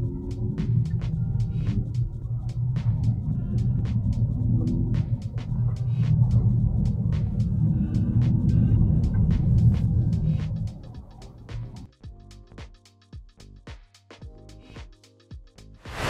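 Smart #3 electric car moving around a test track as it heads from the semi-high speed section to the inner agility track, a steady low rumble with road noise that drops quieter near the end, punctuated by sharp clicks.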